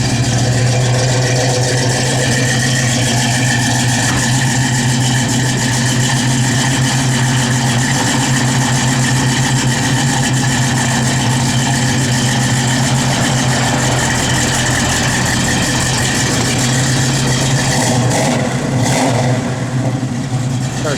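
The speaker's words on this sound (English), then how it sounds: "Car sounds good." 1970 Plymouth Barracuda engine running steadily at idle with a loud, continuous low rumble, close by, with no speech over it.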